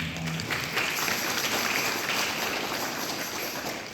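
Wedding guests clapping at a ceremony, a dense steady round of applause from a crowd, sustained and fairly loud throughout, with faint voices underneath.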